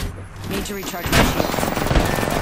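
Gunfire in the battle royale shooter Apex Legends, a dense burst of shots crackling close and loud after a short lead-in, continuing rapidly to the end with game effects in the background.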